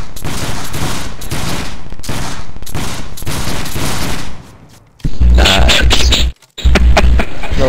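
Musket volley from a 29th regiment company firing by file from the left, a loud rolling fusillade of rapid overlapping shots for several seconds, a brief lull, then more heavy reports close by.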